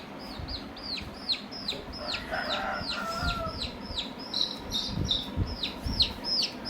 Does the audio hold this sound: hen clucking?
yes